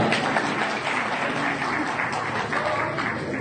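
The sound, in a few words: loud audience applause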